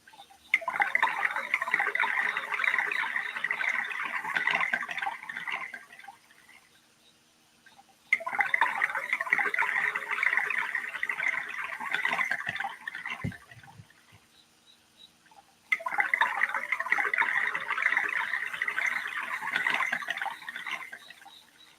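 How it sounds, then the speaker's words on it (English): Looped ASMR waterfall recording: a dense, steady rush of falling water in three roughly six-second stretches, each cut off by a near-silent gap before repeating, with no talk. "This is a 4-star sound, ASMR sound called waterfall."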